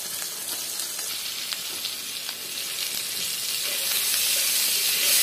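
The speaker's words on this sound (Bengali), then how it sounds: "এবারে পটলটা ভাজা হতে থাক" Pointed gourd (potol) fries in a pan with a little salt and turmeric, giving a steady close sizzle and hiss that swells louder toward the end, with no talking.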